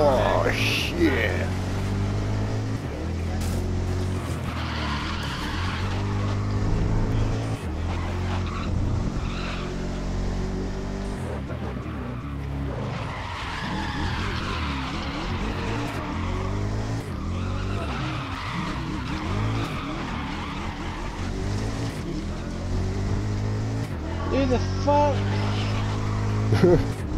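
Racing cars in the video game GRID, including a Koenigsegg, with tires squealing and skidding over steady engine roar throughout, loud and continuous while people talk over the action.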